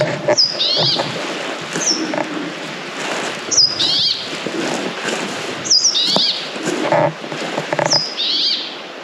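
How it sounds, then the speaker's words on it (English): A bird calls outdoors in a Swedish forest, giving repeated sharp, high squeaky notes in clusters roughly every two seconds, clear against a soft rustling background. "That's a weird bird."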